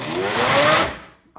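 A Vitamix 7500 blender pulsed on and off, a loud whirring motor that rises, holds briefly, then winds down and stops before a quick restart begins.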